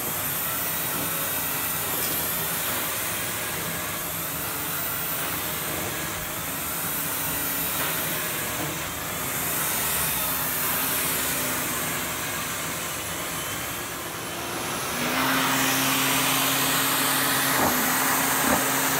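A Dyson DC39 vacuum cleaner with its turbine head runs over carpet, sucking up large chunks of dirt and dust in a steady, close whooshing drone that grows louder and fuller near the end.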